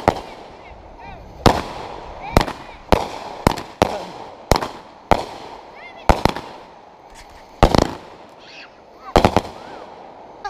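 Fireworks go off at a Fourth of July celebration: about a dozen sharp, loud bangs at irregular intervals, some in quick pairs, with excited voices between them.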